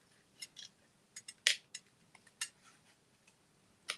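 Scissors snipping card stock while fussy cutting a stamped design for a handmade card, a series of sharp, quiet clicks and snips at an irregular rhythm with short pauses between cuts, close to the mic, no voices.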